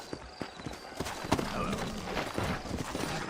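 Horse hooves clip-clop in Red Dead Redemption, a quick irregular run of close, fairly soft thuds over faint background ambience with no talking.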